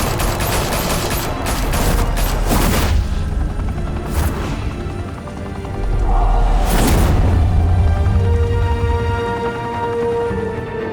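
Bursts of gunfire from the Batman: The Telltale Series video game ring out loudly, with several sharp volleys and a heavy booming stretch over a constant droning backdrop.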